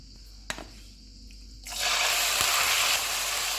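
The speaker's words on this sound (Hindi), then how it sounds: "ऑयल गर्म हो गया, इसमें चिकन डालेंगे।" Raw chicken drops into hot oil in a pan and breaks into a loud, steady sizzle that continues without a break after a small clink at the start.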